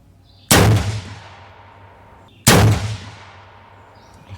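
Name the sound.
AR rifle gunshots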